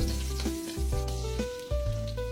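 Chopped onion and garlic fry in a pan with a steady hiss under sustained tonal sounds, and no one speaks.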